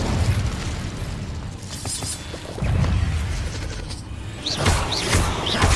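Incendio fire spell cast in Hogwarts Legacy gameplay during a dragon rescue fight, a loud whooshing, crackling burst amid continuous battle noise and impacts, with no speech.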